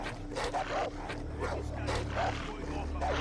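Dogs bark in the video game Far Cry 3, with several short, loud barks and yips coming in an uneven rhythm over a low engine-like drone.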